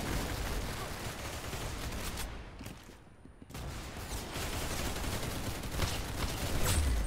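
Continuous gunfire in Roblox Arsenal, a dense, loud wash of rapid shots that drops briefly for about a second before resuming and carrying on to the end.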